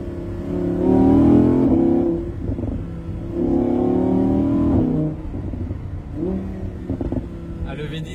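A V10 supercar outside Dubai Mall revs in three rising bursts, each a loud droning engine climb that falls away, the last one shorter, with crackles between the revs and talk mixed in.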